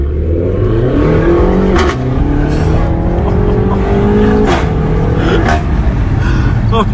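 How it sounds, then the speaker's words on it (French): Renault Megane 4 RS pulling hard from inside the cabin, engine note rising steadily with brief dips at gear changes, loud and continuous, with occasional voices over it. "passage de rapport."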